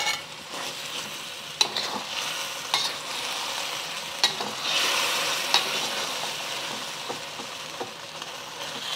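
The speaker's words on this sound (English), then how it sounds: "we're gonna push this beef back in and add the first batch" Phnom Penh-style beef luc lac stir-fries in a hot pan, a continuous loud sizzle punctuated by sharp clacks of a utensil against the pan as the beef is pushed around.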